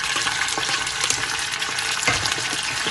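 Onions, peppers and peas stirred together in a hot pan for oven-baked rice, with a steady close sizzle of frying and scraping stir sounds throughout.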